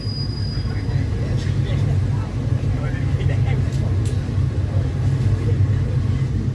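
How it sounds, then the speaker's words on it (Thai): Passenger train number 86 rolling into Khok Khlam station, a steady low rumble of wheels and carriage heard from on board, with a faint high whine above it. "กำลังเข้าสู่สถานีโคกคลามนะ"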